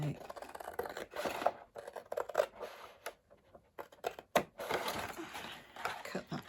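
Scissors snipping through card, a series of crisp irregular crunching cuts with short pauses between, close and fairly quiet, with a voice talking softly at times.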